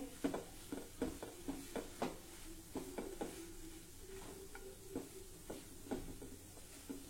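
Dal being stirred and sautéed in oil in a pan, with repeated scraping strokes of a spoon against the pan at an irregular rhythm over a quiet background.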